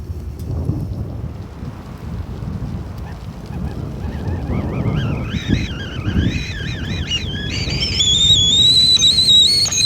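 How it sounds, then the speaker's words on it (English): A kettle boiling on a hot tent stove outdoors in windy April weather begins a wavering whistle that builds and settles into a loud, steady high tone, heard over gusty wind and low rumble. "There's the whistle."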